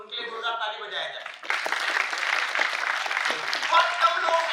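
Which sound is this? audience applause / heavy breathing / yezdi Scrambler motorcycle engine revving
audience applause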